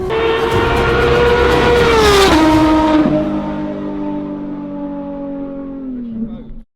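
A Porsche 3 RS race car roars in loudly on track, engine note climbing then dropping through a downshift before settling into a steady idle-like drone as it arrives, with voices over it.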